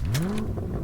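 A car in Fortnite gives a brief, loud engine rev that rises quickly in pitch and then drops away, alone without speech.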